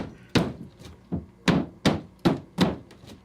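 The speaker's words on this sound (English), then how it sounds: "Punch another couple holes in the corner." Sharp thuds punch holes through a wall during a home repair, with about eight irregular whacks, each followed by a brief crumbling rattle, close and fairly loud.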